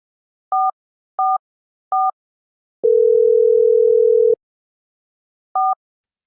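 Telephone tones while placing a call: three short, evenly spaced beeps, a longer steady tone lasting about a second and a half, then one more short beep, clean and close with no voices.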